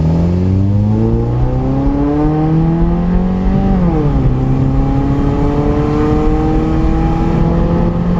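2015 Scion tC fitted with Weapon R headers accelerates from a stop, engine note climbing steadily through one gear then dropping at a shift and climbing again, loud and close with no talk.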